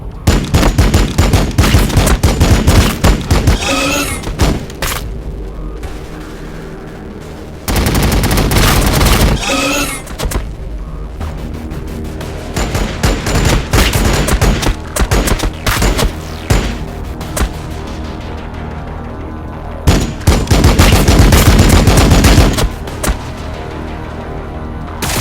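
Heavy bursts of gunfire and booming fire in the Warhammer 40000: Battlesector game, loud and dense, coming in repeated sustained volleys with brief lulls between them, no talking.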